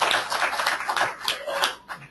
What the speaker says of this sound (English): They clapped.